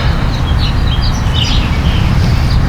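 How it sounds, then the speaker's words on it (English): Small birds chirp and tweet in scattered short calls over a steady low rumble of outdoor background noise during an outdoor yoga class, with no voices. "Can you hear the birds?"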